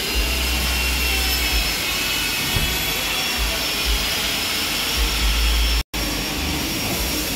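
A machine polisher buffs the body of a Jetbus5 coach bus, giving a continuous, loud whirring drone with small fluctuations and one abrupt momentary cutout, with no speech.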